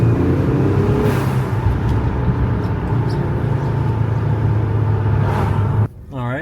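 A Ford Flex all-wheel-drive wagon with a transverse twin-turbo V6 hums at a steady low rumble, then cuts off sharply near the end with a brief turbo blow-off whoosh.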